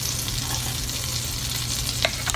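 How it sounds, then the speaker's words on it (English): Mushroom stems frying in melted butter in a pan, a steady even sizzle throughout with a few small crackles near the end, close and alone without talk. "I'm going to add in the mushroom stems right now."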